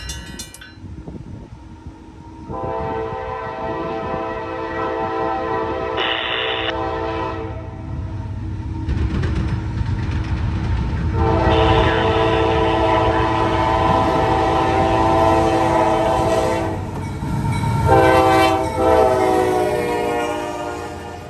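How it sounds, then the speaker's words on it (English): A train passes near the Mad River Station and Depot in Bellevue, its horn sounding loud and sustained in several long blasts over the rumble and clatter of the rail cars. "The train would go around the Y in Bellevue near the Mad River Station and Depot and come back west to hook onto the train before going south."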